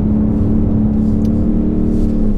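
A Ford Mustang GT V8 drifting, its engine note holding loud and steady at close range with a low droning roar throughout, no one speaking over it.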